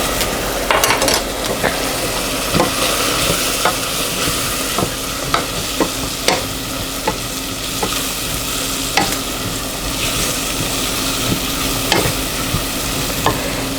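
Flour is stirred into sizzling vegetables in a hot pan to make a dark roux for a lobster étouffée sauce. A constant frying hiss sits under regular scraping strokes of a spoon against the pan, close and steady.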